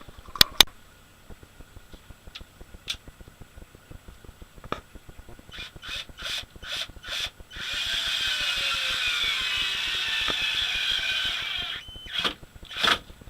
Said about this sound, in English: I'm going to use these to screw these hinges into the section over there